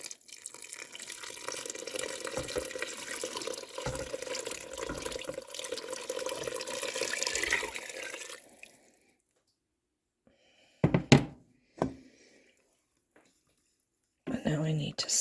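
Broth poured into a pan for a thickened sauce, a steady close liquid pour lasting about eight seconds, then silence broken by short clatters and a brief voice.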